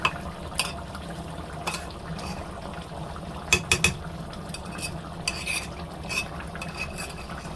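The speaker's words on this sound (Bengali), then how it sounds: "মাংসটা নেড়ে দিব।" Beef curry meat being stirred in a pot, giving scattered scraping and clinking taps of a utensil against the pot over a low steady cooking hiss, with a cluster of sharper knocks midway.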